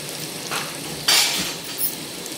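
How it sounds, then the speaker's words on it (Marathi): Onions and spices being sautéed in a pan for Khandeshi-style khichdi, a steady close sizzle of frying with a few louder scraping stirs, one sharp burst of hiss partway through, no talking. "एक मिनिटभर आपल्याला परतून घ्यायचं याला पण।"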